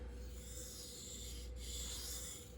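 M390 steel blade rubbed across a Naniwa diamond 1000 sharpening stone, a soft continuous rasping scrape with a short break midway before the strokes resume, quiet and close with no talk.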